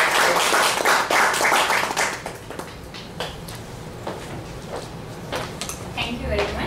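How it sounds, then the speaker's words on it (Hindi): An audience claps to welcome a speaker to the stage, loud applause at first that thins into scattered claps while a voice talks. "तो हम लोग जोरदार ताली से उनका स्वागत करेंगे।"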